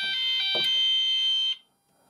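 A Gent addressable fire alarm sounds after a heat detector test: a loud, steady high-pitched electronic tone holds for about a second and a half, then cuts off abruptly into near silence.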